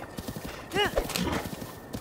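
A horse in the video game Zelda Breath of the Wild gallops with rhythmic clip-clopping hooves and lets out a brief whinny partway through, heard moderately close beneath soft talk.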